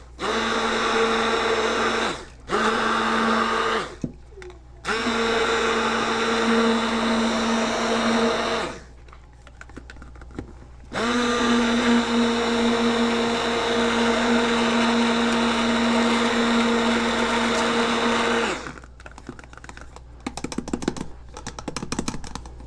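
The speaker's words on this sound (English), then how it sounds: "Then quickly use your immersion blender to blend it." Immersion blender mixing aloe vera moisturizing lotion: loud, steady whirring in four bursts separated by short pauses, with the longest run near the end, followed by faint handling noises.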